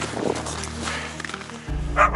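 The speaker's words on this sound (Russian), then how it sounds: "И наши собачки." Sled huskies at Dyatlov Pass in the Northern Urals give a few short barks and yips, mid-distance and moderately loud over outdoor background noise, with a sharper bark near the end.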